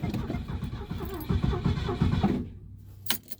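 A classic Ford engine cranks in -30 degree cold, a rapid rhythmic churning of the starter that labors on without catching, then stops, followed by a faint clink, all close up.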